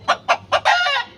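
A native chicken gives three short, sharp clucks and then a longer drawn-out call, close and loud with no talk.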